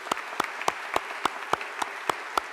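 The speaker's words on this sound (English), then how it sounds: "So I'd like to give Jack a round of applause." Audience applause at an occupational therapy commencement ceremony, a short burst of rhythmic clapping with regular, evenly spaced claps, fairly faint.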